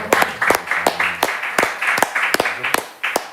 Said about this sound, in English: Look, let's clap.